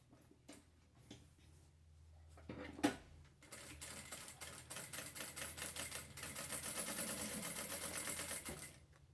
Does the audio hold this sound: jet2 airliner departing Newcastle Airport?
no